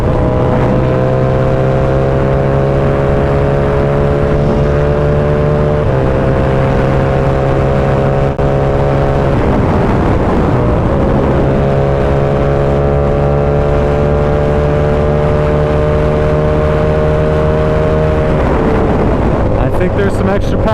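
A Yamaha R7 motorcycle engine with a Rapid Bike auto tuner drones loudly at high speed, holding steady pitch with two brief dips as it shifts, heavy wind rush over everything.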